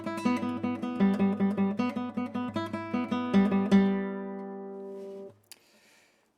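Classical guitar played with firm rest strokes, a quick run of plucked notes with a strong even pulse, close and resonant, closing on a ringing chord that fades to near silence.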